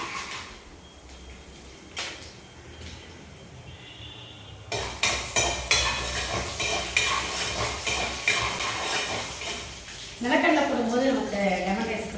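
Peanuts tipped into a cooking pan at home, rattling against the metal with clinks of a utensil, followed by scraping and stirring that grows louder and busier toward the end, with a low frying sizzle underneath.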